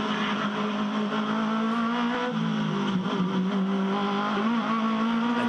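Aussie Racing Cars lapping the Gold Coast street circuit, engines droning and revving steadily at full throttle as the small race cars battle together, loud and continuous with no speech.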